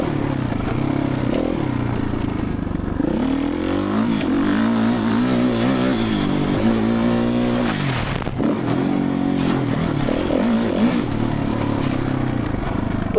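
A Suzuki RMZ450 dirt bike ridden hard over bumps and whoops, its engine droning and revving steadily close up, with clattering from the chassis.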